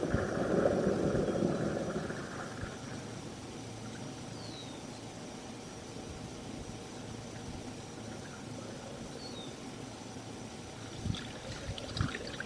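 A residential main lateral sewer pipe carries a steady low rush of flowing water after a toilet flush, a little stronger at the start and then a continuous trickling wash, with faint knocks near the end.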